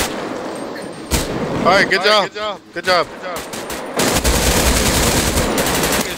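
Machine gun fire in a role-play video game: dense rapid bursts, loud and close, broken by short pauses, with someone speaking briefly between bursts.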